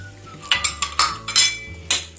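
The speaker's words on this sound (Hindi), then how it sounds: "ये हमने दही डाल दिया है, ऐसे मिक्स कर लेंगे।" A spoon clinks and scrapes against a bowl while yogurt and vinegar are stirred into a chicken tikka marinade, several sharp metallic taps in quick succession, close and alone.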